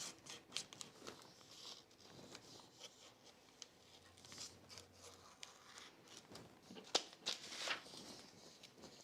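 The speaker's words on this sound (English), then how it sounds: "I usually do scissors for this" Scissors snipping and trimming around a paper sewing pattern for a button blouse, a steady run of soft close cuts and paper rustles with no talking.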